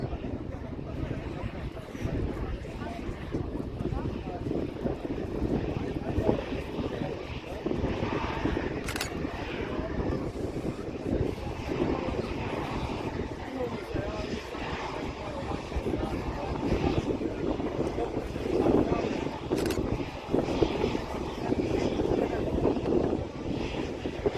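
A Logan Air aircraft just arrived from Inverness at Manchester Airport, heard as a steady, broad engine roar that continues without a break, moderately distant.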